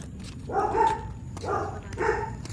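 A dog barks three times outdoors at night, heard by carolers walking between houses, each bark a distinct mid-distance woof spaced about a second apart.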